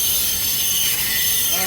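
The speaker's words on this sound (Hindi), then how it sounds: "मात्र 2 मिनट में इस ट्रेन का यहाँ से प्रस्थान हो गया है" A loud Bhubaneswar–Visakhapatnam Intercity SF Express train rumbling and grinding as it pulls out of an Indian station, with a metallic wheel squeal rising near the end.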